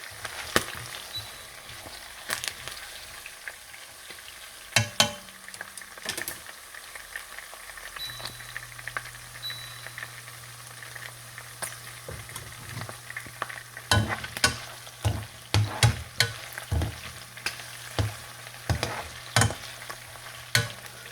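Oil sizzles and crackles steadily as squid fries, with sharp pops and spatters scattered throughout and a low hum in the background.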